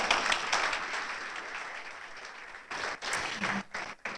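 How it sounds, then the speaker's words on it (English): Fairly quiet applause from an audience at a library author talk, a steady patter of clapping that fades, then a few scattered claps and faint voices near the end. "yes, lots of applause, hardcore"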